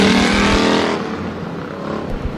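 Race cars roar around the Bakersfield Speedway oval at the start of a bonus feature, a loud, dense engine blare that peaks early and then eases into a steady, slightly more distant drone.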